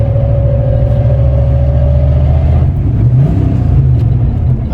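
A budget turbocharged Foxbody Mustang pulls hard through its gears, a loud, steady engine drone with a rising turbo whine that climbs, drops at a shift, then builds again.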